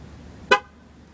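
A car horn gives one short honk, fired by the car's keyless entry remote. It rings out clearly against a quiet outdoor background.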